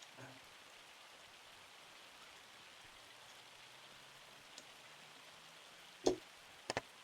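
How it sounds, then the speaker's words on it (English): Steady soft rainfall hisses faintly and evenly throughout a Farming Simulator 25 game scene, with a few sharp clicks or taps standing out near the end. "And it's still raining."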